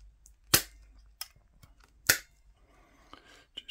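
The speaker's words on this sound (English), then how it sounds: "So I think we are almost at the depth we need to be." A hand-operated Lishi key cutter snips into a Yale key blank, producing two sharp, crisp clicks a second and a half apart with faint scraping and small ticks between, close and quiet.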